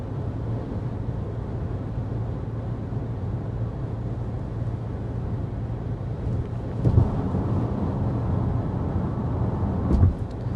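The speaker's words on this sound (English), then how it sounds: "now that we're just kind of cruising down a highway here going 55 miles an hour" Steady low road rumble and engine drone inside a 2023 Kia Sorento Hybrid cruising on a highway at 55 mph, constant and enveloping, with a couple of brief bumps.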